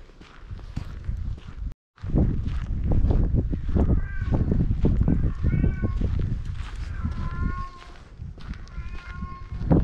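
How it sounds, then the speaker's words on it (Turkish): A cat meows several times in a row in a small town in Belarus, its drawn-out cries standing out over rustling, shuffling noise close by. "Kedi niye mırlavlıyor?"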